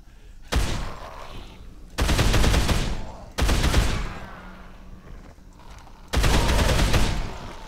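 Loud automatic gunfire bursts from a weapon in the video game Dead Island, four sustained rapid-fire volleys of one to two seconds each separated by short pauses.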